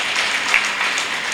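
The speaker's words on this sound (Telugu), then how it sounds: "ఇది యాక్సెప్ట్ చేస్తున్నారంటే గట్టిగా చప్పట్లు కొట్టాలి," An audience claps loudly and steadily at an International Women's Day event, a dense unbroken patter of many hands that fills the short moment without any voice over it.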